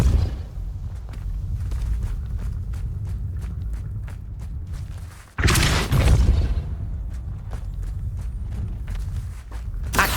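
A Depulso spell cast in the video game Hogwarts Legacy: a sudden forceful whoosh-burst in the middle, standing out over a background of steady footsteps and ambient rumble.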